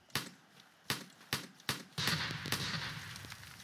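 Grenades go off in a Roblox battle royale game, five sharp blasts in quick succession, the last rolling into a sustained rumbling burst, loud and close.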